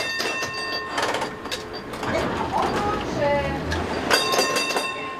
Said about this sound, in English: These tram tracks have connected the city for over 140 years.